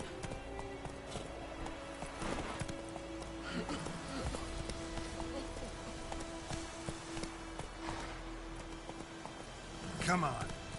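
Hooves of the horse Roach clip-clop at a steady galloping rhythm in The Witcher III, played on PS4, with a rain-like hiss and game music underneath and a brief louder burst near the end.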